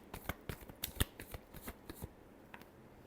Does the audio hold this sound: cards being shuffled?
yes